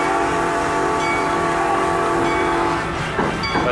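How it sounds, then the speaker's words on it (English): An amusement park train at Kings Island runs close by, with a loud, steady horn or whistle tone over rolling wheel noise and a faint clatter near the end. "But the train is full speed ahead."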